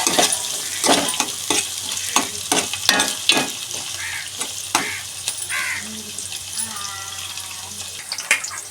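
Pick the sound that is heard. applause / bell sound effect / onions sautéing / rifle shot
onions sautéing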